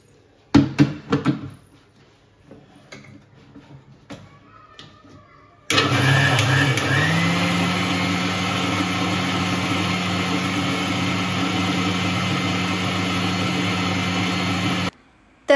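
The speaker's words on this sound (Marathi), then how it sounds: "पण आधी मिक्सरमध्ये ग्राइंड करून घेते" A kitchen mixer grinder blends mango lassi, a loud steady whirring motor hum that starts abruptly and runs continuously for several seconds before cutting off, after some earlier clattering.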